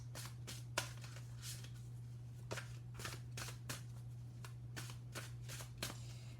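Tarot of Dreams cards are shuffled by hand in quick, crisp riffling bursts, each a short papery flutter, repeated irregularly over a constant low hum.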